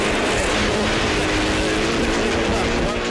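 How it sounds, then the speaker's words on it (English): A rally car engine misfiring during Rally Nelson in the 2008 New Zealand Rally Championship: a loud, rough, continuous engine drone with a ragged, uneven tone, close and unbroken for the whole stretch. "You can hear that car misfiring"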